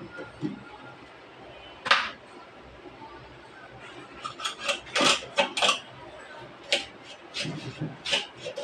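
A knife cuts through fish in a series of sharp, irregular scraping and chopping strokes, some close and crisp, with quiet gaps and a soft voice in between.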